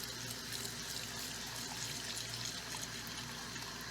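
Water running into a cooking pot being filled for oatmeal, a soft continuous splashing stream, faint and close, with no voices.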